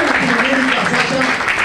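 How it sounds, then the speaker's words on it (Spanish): Audience applause at a press conference for a healthy-living fair, broadband clapping filling the whole brief moment with a voice speaking over it. "Sasha Fitness, un aplauso para ella."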